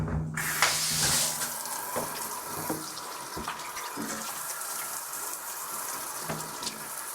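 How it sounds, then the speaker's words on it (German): Water from a tap or shower head splashes steadily onto bathroom tile grout, rinsing away acid cleaner, a continuous hiss with small spatters, close and fairly quiet. "Nach der Einwirkzeit vom Sauerreiniger tun wir auch den wieder abspülen."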